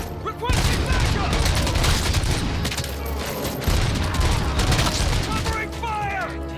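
Loud, dense automatic gunfire from the Robocop Rogue City video game rattles continuously in rapid bursts, mixed with booms and shouted voices over the combat.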